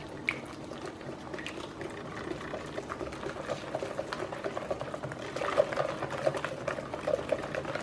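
Shortbread cookie dough mixture, with vegetable oil just poured in, is stirred in a bowl, giving a soft steady wet churning with light scrapes and clicks, close and fairly quiet, with no talking.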